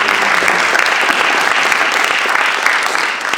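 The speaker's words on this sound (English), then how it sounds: "So let's give the Chancellor a round of applause for leading by example." A large audience gives the Chancellor loud, dense, continuous applause that holds at full strength and dips only slightly at the very end.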